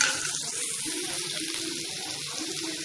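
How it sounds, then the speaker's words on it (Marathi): Chopped onion frying in a pan toward golden brown for a restaurant-style dum aloo, a steady hissing sizzle that sounds almost like running water, close and constant without speech. "कांदा पण चांगला गोल्डन ब्राऊन कलरवरती तळून घेऊया."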